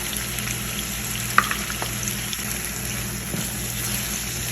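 Chopped onions sizzle steadily in hot oil in a pan for dhaba-style daal mash, a continuous close frying hiss with a few brief stir clicks and no talking.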